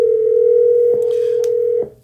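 A steady telephone dial tone hums continuously for nearly two seconds during a repeat follow-up call, with a couple of faint clicks, then cuts off abruptly.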